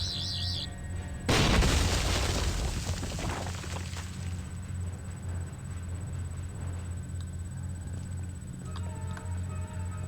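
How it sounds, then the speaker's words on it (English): A single booming cannon blast in the Doctor Who Adventure Games episode The Gunpowder Plot hits loudly and decays over a couple of seconds, over a steady low electronic hum. "Very temperamental, that cannon."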